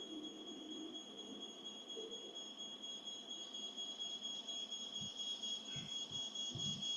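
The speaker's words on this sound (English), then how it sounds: "The smoke alarm on the second floor now activates" A household smoke alarm on the second floor of a home is going off, giving a steady, piercing high tone that sounds fairly distant and quiet, with a few soft low thumps near the end.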